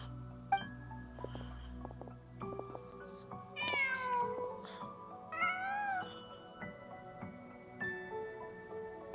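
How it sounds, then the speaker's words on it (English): A cat meows several times in the video game Genshin Impact, with rising and falling calls standing out clearly over a soft ambient music bed. "Huh. Just a cat."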